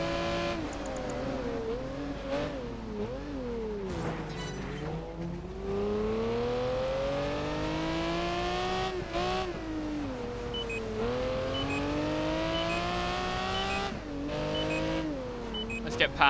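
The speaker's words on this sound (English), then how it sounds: "That's a Ferrari Enzo there." Ferrari Enzo engine in Project Gotham Racing 4, a loud continuous race engine climbing and dropping through repeated gear shifts, revving up steadily with brief dips, alone throughout.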